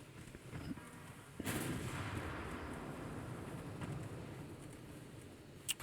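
Heavy 10-inch naval guns fire in the warship game Ultimate Admiral: Dreadnoughts. A deep booming salvo gives way to a long rumbling roll, and faint, distant reports follow.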